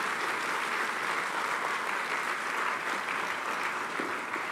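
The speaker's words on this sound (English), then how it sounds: "Performance certainly deserves another round of applause." Steady applause from an audience at a university induction ceremony, a dense even clatter of many hands sustained throughout without voices over it.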